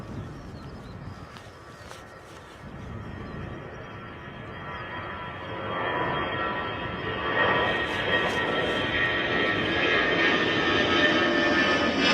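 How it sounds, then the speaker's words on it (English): A passenger aircraft departs Bristol Airport in a gusty crosswind on a flight to Edinburgh, its engine roar building steadily from a moderate rumble to a loud, sustained, broadband whine as it passes. "Slightly bumpy departure, I think, for these passengers going their way to Edinburgh."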